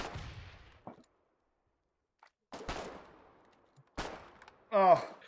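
In the war game Foxhole, a thrown grenade detonates. Three sharp booming blasts are separated by near silence, each with a short decaying tail. A voice speaks near the end.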